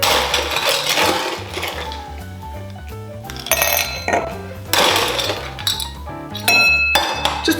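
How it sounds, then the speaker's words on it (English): Ice cubes clinking and rattling in a cocktail glass as it is swirled while a Long Island Iced Tea is made, a busy run of bright clinks close by with background music underneath. "just put a bit of ice in that glass, give it a little bit of a spin"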